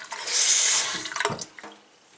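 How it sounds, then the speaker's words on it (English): Water running from a repaired Delta kitchen faucet into a sink, a short hissing rush that cuts off, followed by a few drips and small clunks. "Delta faucet is working."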